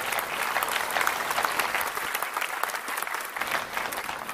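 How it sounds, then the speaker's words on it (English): An audience at a live event in Wilmot claps. The applause is steady and moderately loud for about four seconds, a dense patter of many hands with no speech over it. "Big round of applause for John and his wife."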